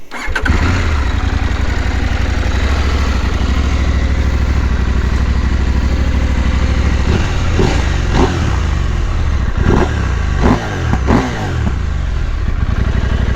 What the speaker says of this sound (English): Sounds beautifully because of this Akrapovic, but the engine is so noisy